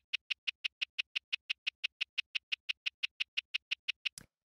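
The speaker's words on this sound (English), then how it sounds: "Honestly, it's just like a click." A small shaker-like click sample from an organic hip-hop beat ticks in an even, rapid row of about twenty crisp, bright, quiet hits, alone, ending in a brief scrape.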